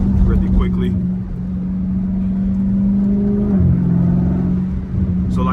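A Dodge Charger engine hums at a steady pitch, then the note drops sharply as a paddle-shift downshift into second gear goes through, and the drone settles back in, with someone talking over it.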